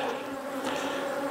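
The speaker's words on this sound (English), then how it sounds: "Bees are not all that happy anymore." Honey bees buzz densely around an open hive during a winter inspection, a continuous close, loud drone with no pauses and no talk.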